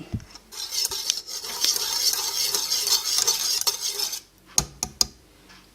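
Oliebollen batter with vanilla and cinnamon powder is mixed vigorously in a bowl, a dense, continuous scraping and whisking for about four seconds that ends in a brief pause and a few sharp taps against the rim.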